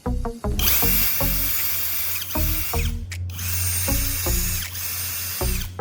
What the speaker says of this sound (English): Let's drill straight into this wood block.